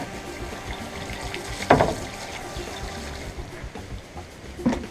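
Water splashing and trickling over a porgy fish fillet being rinsed outdoors, with a couple of sharper splashes amid a low background rumble.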